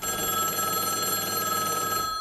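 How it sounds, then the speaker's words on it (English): An old-style telephone bell rings continuously, bright and metallic, loud and steady without pause. "suddenly, a phone started ringing"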